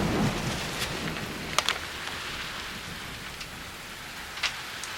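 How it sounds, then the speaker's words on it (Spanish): Steady rain pours down during a storm at sea aboard a sailing boat, a continuous hiss with a few sharper drop or spray hits, no voices. "Ya empezó a llover."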